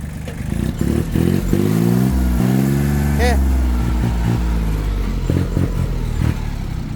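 A Kubota L1802DT tractor's diesel engine revs up and holds a steady, loud mechanical drone nearby, with clattering knocks toward the end and voices talking over it.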